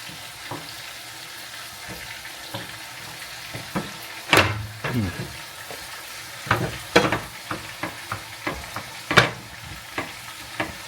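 Steak and creamy beans cooking in a pan, a continuous low sizzle with scattered clinks and scrapes of a utensil, a few louder knocks standing out near and clear.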